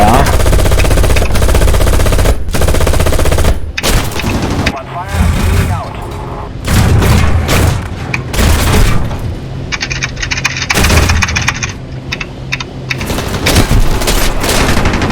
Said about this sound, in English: Yep, I got bombs off.